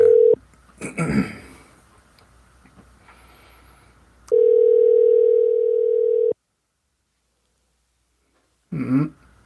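A telephone line while calling someone: a burst of keypad and handling noise, then a steady two-second dial-type tone that stops abruptly, followed by silence and a brief rustle.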